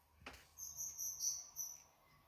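Baby chicks' high, thin chirps repeat in quick bursts, faint and close, with a short knock at the start and no talking.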